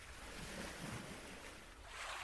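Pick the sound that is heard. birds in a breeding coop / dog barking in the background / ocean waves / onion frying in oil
ocean waves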